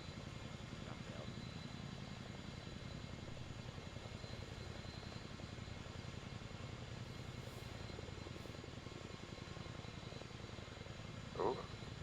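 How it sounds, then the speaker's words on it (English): Helicopter in the military game Arma 3, a steady rapid rotor chop droning throughout at moderate distance, with a brief soft sound near the end and no clear speech. "chopper's moving"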